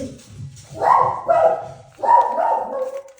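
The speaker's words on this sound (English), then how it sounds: "So we have my dogs barking" Pet dogs bark in two quick bursts, close and loud, with a whimpering yip edge and nothing else in the room.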